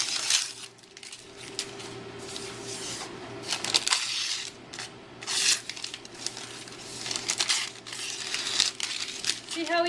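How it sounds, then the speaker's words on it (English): Paper is torn and crinkled off a 6-pound fudge slab, with close bursts of crumpling and ripping separated by short pauses. "In order to rip the paper, all you have to do is take one end"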